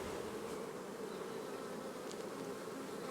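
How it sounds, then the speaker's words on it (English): Honey bees drone in a dense, steady buzz on a hive frame at a farm apiary, close and continuous throughout with no talk. "gently blows on the bees to move them aside to check for brood"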